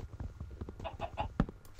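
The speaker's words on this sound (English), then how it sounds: "And there's a chicken." A chicken in the video game Minecraft clucks in a run of short, soft, rhythmic bursts, fairly close and steady, with one sharper click near the end.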